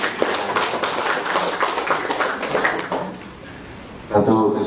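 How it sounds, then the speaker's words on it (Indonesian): An audience at a formal gathering in Konawe claps in a burst of quick, uneven hand-claps, with a voice speaking over and after the clapping. "Asik. Tepuk tangan dulu."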